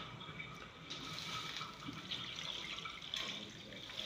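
Water trickles and splashes steadily into a pot of Nigerian Afang soup with periwinkle, a soft continuous pour heard close and fairly quiet, with no talking.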